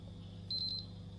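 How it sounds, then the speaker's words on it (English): A BK Precision 879B handheld LCR meter in 1% tolerance mode beeps for an out-of-tolerance capacitor: a short, clear burst of several rapid high beeps over a low steady hum. "it will do several beeps instead of the single beep which you'll get with one that's within range"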